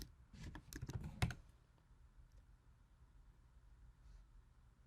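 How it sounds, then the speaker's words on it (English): Quick burst of keystrokes on a computer keyboard as a terminal command is entered, several close clicks in the first second and a half, then a faint quiet room. "So we will go into the terminal and type in Maven clean install."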